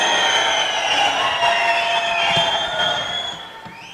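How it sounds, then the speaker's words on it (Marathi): Large outdoor rally audience in Phaltan clapping and cheering for Ranjit Naik-Nimbalkar, a loud sustained wash of applause with a few sharp claps standing out, easing slightly toward the end. "फलटणकर दोन्ही हात वरती करायचे, जोरदार टाळी झाली पाहिजे त्यांच्यासाठी"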